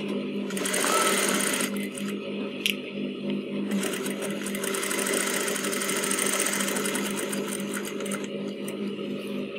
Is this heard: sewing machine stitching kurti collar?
yes